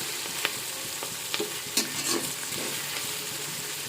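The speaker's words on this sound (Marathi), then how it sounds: "तर बघू शकता कांदा टोमॅटो छानपैकी परतून झालेला आहे" Onion and tomato sautéing in oil for masala rice: an even close sizzle with a few clattering stirs and scrapes of the spoon in the pan, with no voices.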